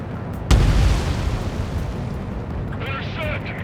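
Anti-aircraft fire and a blast in the jet combat game Ace Combat 7, one sudden heavy boom followed by a long rumbling decay, with a radio voice speaking over the noise near the end.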